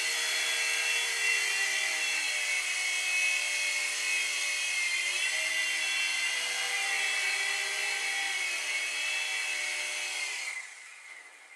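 A small Litehawk Mini 3-channel RC helicopter's high-pitched electric whine hums steadily and close as it comes in to land, shifting slightly in pitch before cutting out abruptly at the end.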